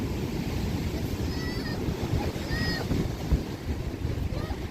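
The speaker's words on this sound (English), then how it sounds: "Look at some of these waves." Ocean waves surge and wash steadily against Jennette's Pier at Nags Head, North Carolina, a loud continuous roar mixed with gusting wind noise on the microphone.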